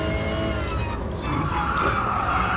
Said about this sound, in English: Way too much tyre squeal